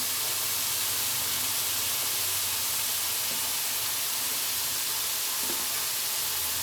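Onion, curry leaves and capsicum frying in a pan, a steady, even sizzle and hiss that continues unbroken throughout with only faint stirring knocks beneath.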